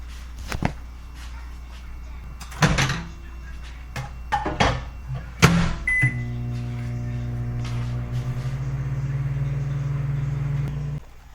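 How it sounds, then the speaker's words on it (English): A microwave oven heating a leftover meal hums steadily with a low drone after a few clicks and thumps from loading and starting it, close by, with no talk. "open one, put it in the microwave, and eat what's in it"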